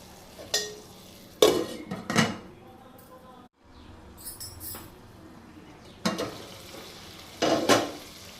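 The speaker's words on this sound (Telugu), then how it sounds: "కర్రీ చక్కగా వేగిపోయిందండి ఆయిల్ వదిలేస్తుంది" Mutton curry with tomato and chili powder cooks in oil in a pan under a low, steady sizzle, broken by several sharp bursts of a spoon scraping and clanking against the pan.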